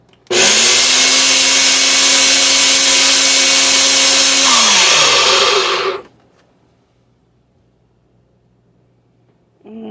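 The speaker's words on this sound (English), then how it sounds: "I still have a few flakes in there, so I'm going to go ahead and grind it some more" A small electric spice grinder whirs loudly as it pulverises dried no-salt Italian seasoning herbs, a steady high-pitched buzz for about six seconds that dips in pitch near the end, then cuts off into near silence before a brief restart.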